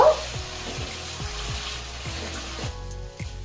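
Spices with turmeric and a little water being fried and stirred in a pan, with a low steady sizzle broken by regular rhythmic scraping strokes of the spoon.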